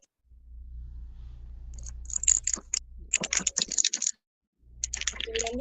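Typing on a computer keyboard during an online class session, close rapid clicking bursts separated by a short pause, with a low hum underneath.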